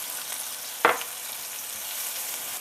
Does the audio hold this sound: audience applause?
no